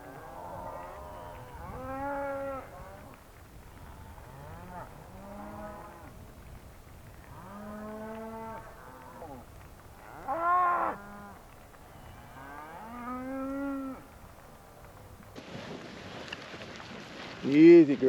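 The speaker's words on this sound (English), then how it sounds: "Line out, cows." Cattle on a fall drive from mountain range to winter pasture in Wyoming moo repeatedly, with long, overlapping calls close by. A brief, noisier burst comes near the end.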